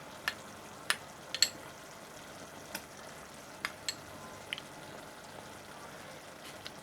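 Raw mango goes into a pumpkin curry in a pan, where it fries with a faint steady sizzle broken by scattered sharp pops and spatters. There is no talking.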